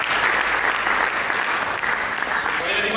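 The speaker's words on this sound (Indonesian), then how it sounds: "Berikan tepuk tangan bagi Yesus." A church congregation breaks into sustained, loud applause during a sermon, with a full steady wash of clapping throughout and voices mixed in.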